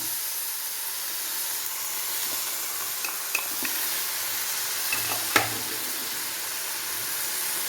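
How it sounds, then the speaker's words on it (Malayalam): Loud, steady sizzling hiss as water hits a hot pan of stir-fried ivy gourd and ridge gourd, with a few faint clicks of utensils, close up and without speech. "ഞാൻ മിക്സിയുടെ ജാറ് കഴുകി അല്പം വെള്ളം ഒഴിക്കാം"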